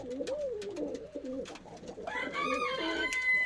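Several pigeons coo in soft, rolling calls close by inside a coop, with more birds joining in and overlapping toward the end.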